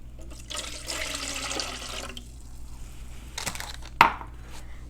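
A cup of water poured for a cake pop batter, a splashing, trickling pour for about two seconds, then a quieter pause and a sharp clink near the end.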